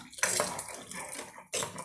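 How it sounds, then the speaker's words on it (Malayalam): Water poured from a vessel into a pot of Guruvayur rasakalan curry being made, a close splashing pour that runs on and then bursts again briefly near the end. "ഇതിനകത്ത് ആവശ്യമുള്ള വെള്ളം ഒഴിച്ചു കൊടുക്കാം"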